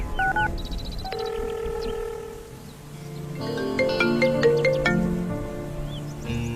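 A phone dials out a call: a series of short, clear electronic beeps and tones in separate bursts, then a pause, then a busier run of tones, heard in a quiet room.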